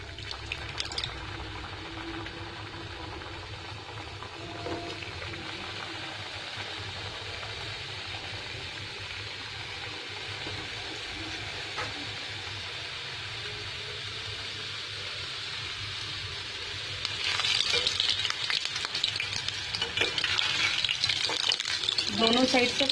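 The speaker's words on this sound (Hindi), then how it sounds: "अभी हम लोग इसको फ्राई करेंगे। गैस को हमने मीडियम हीट पे रखा है। ऑयल हमारा गरम हो चुका है।" Wheat-flour gujiya deep-fry in hot oil over medium heat, a continuous close bubbling hiss that swells louder and busier toward the end.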